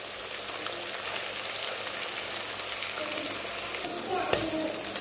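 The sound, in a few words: fish and curry leaves frying in hot oil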